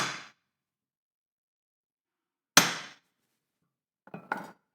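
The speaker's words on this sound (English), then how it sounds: "Center punch." Three sharp metallic taps spaced apart in a quiet room, a center punch marking a motorcycle fairing amp bracket, the last a quick double strike, each ringing briefly before fading.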